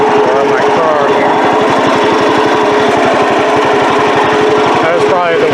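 Craftsman lawn mower that sat for eight years, engine running with dry blowing exhaust, a loud, harsh rapid popping rattle, steady and close throughout, with no clear talking.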